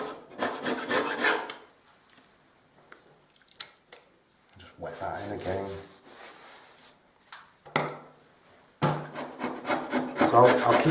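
A putty knife blade, only about an inch of it in use, scrapes dried filler out of a hole in drywall in rough, rasping strokes, close and fairly loud, in several bursts separated by pauses.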